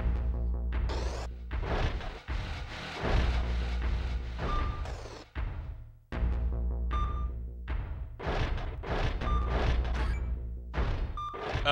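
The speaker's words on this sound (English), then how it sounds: "I need to find whatever enemy is causing the beeping and kill it." Repeated short electronic beeps from an unseen enemy in the horror video game Epidemic (Kileak, The Blood 2) ring out at intervals over a dense, loud droning game soundtrack.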